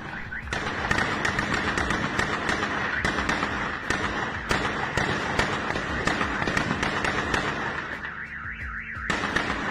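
Gunfire from an armed attack on a wake at a house in Celaya, Guanajuato, comes as rapid bursts of shots over several seconds, with a wavering alarm-like tone running underneath throughout.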